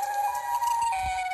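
A siren in the shooter video game Chicken Gun wails with a steady electronic tone that shifts pitch partway through, while low thumps and game noises sound beneath it.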